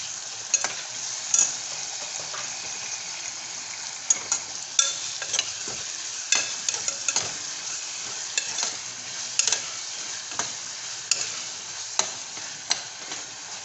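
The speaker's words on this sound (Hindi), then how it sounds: "डालूंगी अदरक लहसुन का पेस्ट" Ginger garlic paste sizzling and frying in a pan for Indian daal, a steady close hiss broken by the scrape and clack of stirring at irregular moments.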